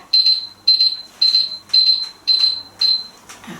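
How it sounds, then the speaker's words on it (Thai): A kitchen timer beeps six times in a steady, evenly spaced rhythm, each tone high and bright, with quiet room noise between, while Thai thong yod egg-yolk dessert is made in syrup. "สัญญาณเตือนเสร็จเรียบร้อยนะคะ"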